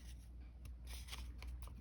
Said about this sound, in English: Now I'm going to just trim around this. I'm going to use my big scissors actually.